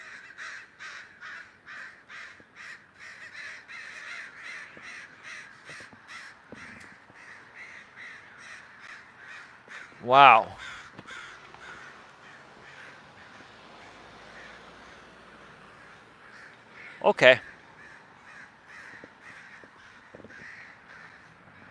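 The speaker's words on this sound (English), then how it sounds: "You can hear these birds are so damn loud" A large flock of crows caws loudly and continuously, flying home from the beach, with a dense rhythmic chorus of calls throughout and two sharper, louder caws standing out near the microphone; a man murmurs briefly.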